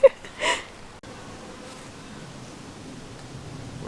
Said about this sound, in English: What is it? It's a bee!